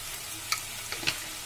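Tomatoes with salt and turmeric fry in a pan, a moderate steady sizzle broken by two or three quick scraping clicks of stirring.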